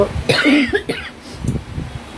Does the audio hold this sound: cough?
yes